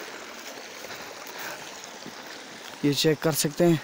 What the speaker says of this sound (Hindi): ये पानी जा रहा है यहाँ से आबशार की तरफ